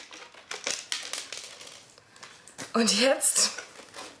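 A large package unpacked by hand, with scattered crinkles and rustles of packaging followed by a louder stretch of crackling plastic, close by, while someone talks.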